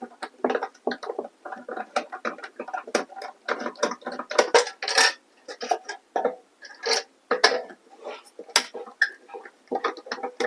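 Lid of a rice cooker being opened and its screws taken out during a repair, giving a close run of irregular clicks, small ratcheting rattles and light knocks.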